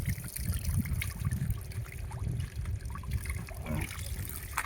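Water trickles out for drinking, a soft, continuous wet dribble heard fairly close and quiet amid faint outdoor background noise, with no one speaking.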